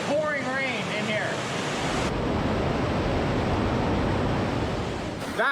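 A strong stream of water rushing through the Partnach Gorge in pouring rain, a loud steady broadband roar that fills the space, with a voice speaking briefly over it at the start.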